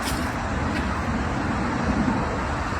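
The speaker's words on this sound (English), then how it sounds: "As you can hear over here, there's lots of traffic noise." Continuous road traffic rumble near the Central Library in Arlington, Virginia, with cars and heavier vehicles passing at a moderate distance, a steady broadband wash with no talking.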